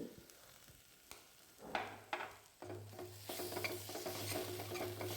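Masala sizzling in a pan for a jackfruit seed curry while a spoon stirs and scrapes, the first seconds quieter with scattered knocks, then a louder, fuller frying hiss with a low steady hum underneath.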